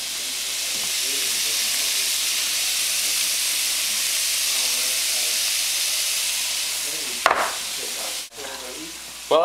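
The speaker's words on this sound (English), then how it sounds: "While I continue to brown the ground beef and continue to fry the onions" Ground beef and onions frying in a pan, a loud, steady hissing sizzle that holds evenly, broken near the end by a few sharp knocks and stirring sounds.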